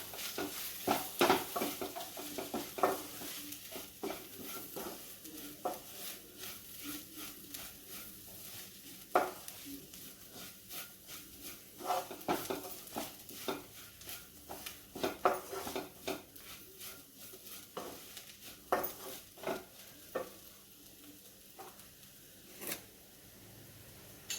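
Masala with turmeric powder is fried for beef curry, with a spoon stirring and scraping the pan in quiet, busy, repeated strokes over a faint sizzle.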